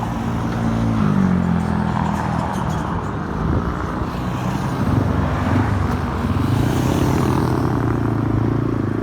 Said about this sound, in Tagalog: May dumaan na motor.